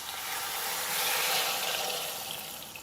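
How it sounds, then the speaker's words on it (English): Chicken broth, a cupful, pours into an Instant Pot with a rack inside, a steady liquid splash and trickle building slightly in the middle and tapering off, with no talking. "now I'm going to pour a cup of chicken broth in"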